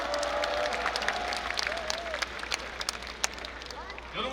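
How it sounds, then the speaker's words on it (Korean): Crowd applause at an outdoor political campaign rally in Yongsan, steady clapping with scattered cheers and whistles, a voice briefly audible over it. "힘찬 박수 부탁드리겠습니다."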